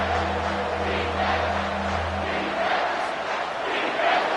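Stadium crowd in a Madden 25 college football game roaring loudly and continuously on a third down, a dense sustained wall of cheering with a low engine-like hum underneath early on.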